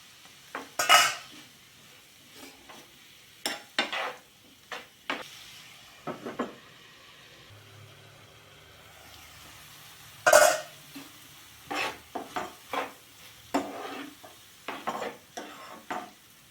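Paneer bhaji cooking in a pan, stirred with a utensil in a series of scraping and clinking strokes over a soft sizzle, with quiet stretches between the bursts of stirring.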